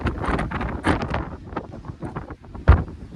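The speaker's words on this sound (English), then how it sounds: "I'm now at the top of Shipman Knots, and it's incredibly windy." Strong gusty wind on the summit of Shipman Knotts in the Lake District buffets the microphone with a low rumble, rising and falling, and a sharp thump near the end.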